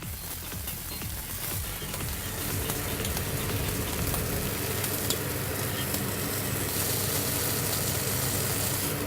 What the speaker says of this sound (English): We're going to get that in there and we're going to start searing that off